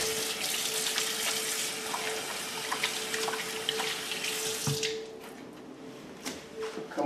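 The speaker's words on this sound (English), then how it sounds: "the sink, wash my hands again." Water runs from a kitchen sink tap while hands are washed, a steady close hiss with splashing and squishing that thins toward the end.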